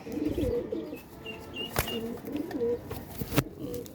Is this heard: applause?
no